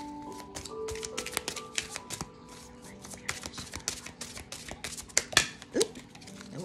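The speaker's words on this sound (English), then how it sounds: "let me shuffle these other cards real quick" Quick, crisp riffling and snapping of cards, with rapid clustered ticks and a few sharper flicks near the end; a voice is faintly present.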